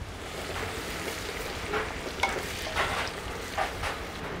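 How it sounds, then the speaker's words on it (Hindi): Sliced onions sizzling in hot oil with whole spices such as cloves, cinnamon, cardamom and cumin, a steady close frying hiss with light stirring scrapes in a pan. "और हम इस प्याज को ब्राउन करेंगे"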